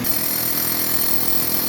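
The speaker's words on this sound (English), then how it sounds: "he's still drilling some more holes." Power drill boring holes into a concrete driveway for concrete leveling, a loud, steady grinding whine running continuously and close by.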